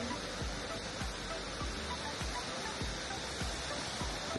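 A waterfall pours out a dense, steady roar of rushing water that fills the whole clip at an even level, with no voices heard.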